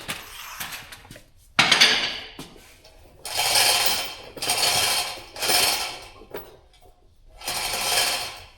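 Gantry crane being loosened in a workshop during axle work, repeated bursts of metallic ratcheting and grinding, about five bursts separated by short pauses, close and fairly loud, no talk.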